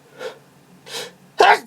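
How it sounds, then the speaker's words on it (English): Two quick breathy inhales lead into a single sharp, loud sneeze, heard up close with no talking. "I'm going to sneeze again."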